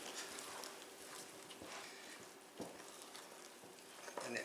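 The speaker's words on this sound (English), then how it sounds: "you just stir and stir with the stout spoon" A stout spoon stirs a thick Sally Lunn batter bread dough made with four cups of flour, giving a steady close-up scraping and squelching with soft clicks of the spoon against the bowl.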